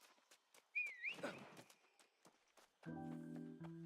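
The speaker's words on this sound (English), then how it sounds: "Who's whistling?" Someone whistles a short rising-and-falling tune during an online New World game session, faint and brief, amid light footsteps and followed by a sustained musical tone.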